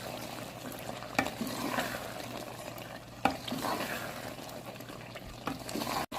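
Black chickpeas roasting in a pan with garam masala and fresh coriander, a steady low sizzle with scraping stir strokes and a few sharp utensil knocks, close and moderately quiet.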